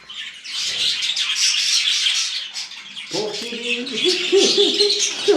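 A small budgerigar chirps and chatters continuously at close range, with a voice briefly speaking over the second half.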